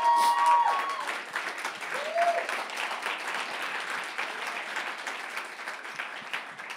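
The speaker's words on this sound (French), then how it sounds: "Les autres ont applaudi par politesse." Audience applause at a church talk, a dense steady patter of clapping that starts loud and holds at a moderate level, with a brief whoop near the start.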